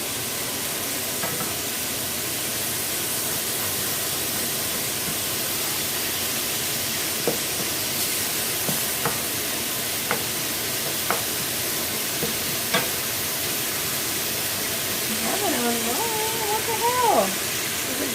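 Ground beef frying in a pan for enchiladas, a steady broadband sizzle with scattered stirring scrapes and clicks, a brief voice at the end over the hiss.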